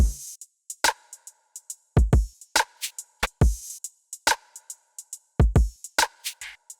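A punchy electronic bass-music drum loop at 140 BPM plays alone: deep kicks, crisp layered snares and clicky hi-hats in a quick, repeating pattern with short gaps between hits.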